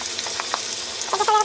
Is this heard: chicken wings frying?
yes